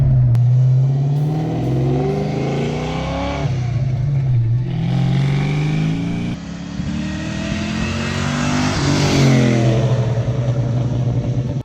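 A Fox Body Ford Mustang engine revs and pulls, pitch rising then dropping at several gear changes, heard loud and close from inside the car.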